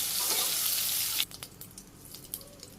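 Soybean chunks and spices sizzle loudly in hot oil in a village kitchen, a steady crackling fry that cuts off suddenly into quieter scattered clinks and soft bubbling.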